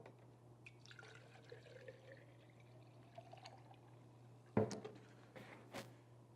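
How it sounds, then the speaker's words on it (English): Cleaning solution is poured into a glass mason jar in a quiet room, with a faint low hum underneath. A couple of short splashy pours and trickles come near the end. "Grab your extra mason jar and fill this up with cleaning solution."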